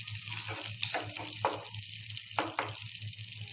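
Dried peas hit a hot pan for matar paneer and set off a steady, close sizzle. Light clinks and stirring knocks punctuate the frying, with no talking.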